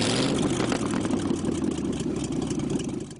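A Cleveland 302 V8 engine fitted in a Ferguson tractor runs steadily close by, a deep throaty idle with a slight rise in the middle before easing off.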